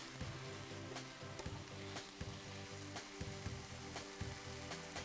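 Steady crackling sizzle of food frying in a heavy pan, with occasional louder pops and stirring scrapes, close and continuous.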